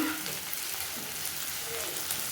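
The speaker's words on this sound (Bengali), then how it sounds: "আদা বাটাটা একটু কষে" Ginger paste frying in a pan with chopped tomato for a bata fish curry, a soft, even sizzle with light crackles, steady and close, with no talk.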